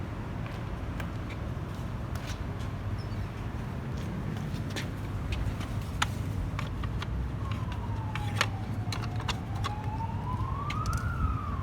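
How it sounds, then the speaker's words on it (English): An emergency siren wails in the distance, rising and falling over steady traffic noise and a low engine rumble, with sharp clicks now and then. "I can hear the sirens"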